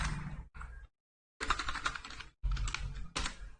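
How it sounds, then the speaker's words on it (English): Close, rapid typing on a computer keyboard, clicking in quick bursts separated by short pauses. "So just go to Google and just type here Camstudio"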